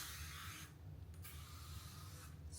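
Dollar Tree cleaner sprays onto stainless steel in two close, soft hissing bursts, each lasting about half a second to a second, separated by a short pause.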